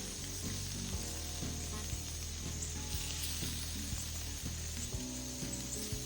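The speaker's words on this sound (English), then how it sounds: "I'm browning my chops" Pork chops browning on a homemade grill, a loud continuous sizzle and crackle with scattered scraping knocks throughout, no talking.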